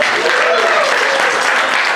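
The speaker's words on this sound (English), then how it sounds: "Who remembers, just by applause, who remembers America's Funniest Videos with Bob Saget?" Steady, dense applause from a comedy club audience during a stand-up set, loud and continuous throughout, with a few voices mixed into the clapping.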